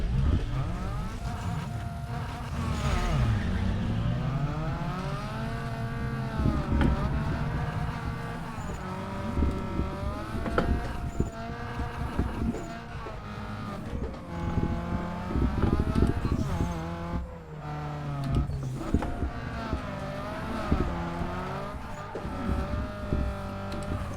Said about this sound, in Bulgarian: Гледайте сега как се дрифти.